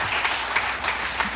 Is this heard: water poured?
no